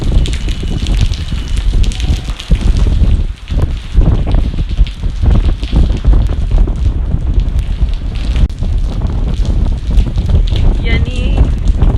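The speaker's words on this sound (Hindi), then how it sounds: "ये ठंडी हवा चल रही है" Cold wind gusting steadily through the rainy, foggy Murree hills, a loud, continuous rushing roar buffeting the microphone for the whole stretch, with rain noise mixed underneath.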